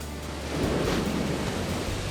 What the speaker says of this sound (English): the waves are pounding at Boomer Beach